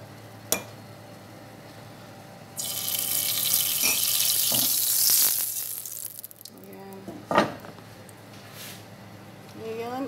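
A small amount of leftover butter sizzles in a frying pan for a quick breakfast, a loud bright hiss swelling up partway through and easing off, with a few clicks and knocks around it.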